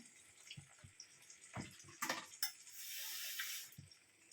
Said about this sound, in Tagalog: Dagdagan natin ng konting sabaw. Sabaw tubig.